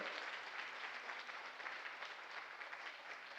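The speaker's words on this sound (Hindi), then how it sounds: "हमारे mentor mister Ajay Sharma sir के लिए जोरदार तालियां होनी चाहिए" A packed network marketing training audience gives a loud, dense round of applause for their mentor, continuous clapping with no break.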